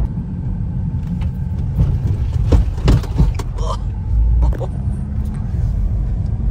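A Mercedes A45s AMG cruises along an Indian highway on a family road trip, its steady engine and road rumble filling the cabin continuously with occasional thumps and rattles, no one speaking.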